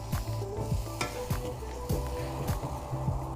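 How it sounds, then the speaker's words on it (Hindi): Chicken karahi with yogurt is stirred over high heat, the spoon scraping in a quick repeated rhythm over a steady loud sizzle of frying. "स्टिर करेंगे और तेज़ आंच पे इसे पकाएंगे।"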